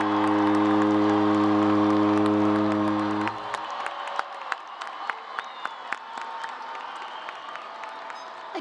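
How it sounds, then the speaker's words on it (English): An audience at the San Francisco State University 2024 commencement ceremony applauds in a dense, steady wash of clapping and crowd noise after a sustained tone fades out. "Please join me in a round of applause."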